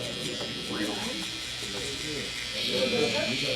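Electric hair clippers hum and buzz steadily while cutting a back taper, with someone talking over the sound and the motor growing slightly louder near the end.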